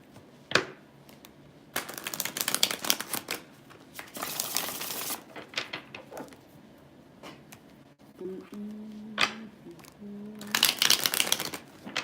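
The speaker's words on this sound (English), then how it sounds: "I will shuffle my cards to oblivion." Tarot cards being shuffled by hand in bursts of crisp riffling and flicking, fairly close, with pauses of quiet between runs and a brief low hum partway through.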